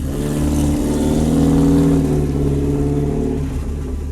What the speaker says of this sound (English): The car I currently drive is a 1990 Audi Coupe Quattro.